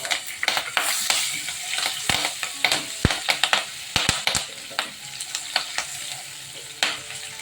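Cumin seeds and red chilli fry in hot oil in a pan for a Gujarati dhokli curry, giving a constant crackling sizzle close by. A spoon scrapes and clicks sharply against the pan as the spices are stirred.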